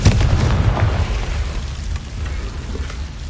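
A Confringo fire spell in Hogwarts Legacy, cast on PC, lands as a loud, close blast with a heavy low rumble that slowly fades over a few seconds.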